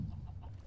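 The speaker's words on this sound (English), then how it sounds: "Let's kill these chickens." Chickens clucking in Minecraft, a short burst of low, blocky game-animal clucks heard close and steady, with no talk over it.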